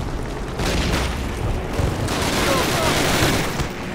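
A dense battle plays out in Call of Duty: Classic on PS3: continuous rifle and machine-gun fire mixes with heavy grenade booms in a loud, chaotic barrage.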